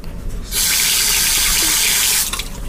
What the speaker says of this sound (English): Put some water on.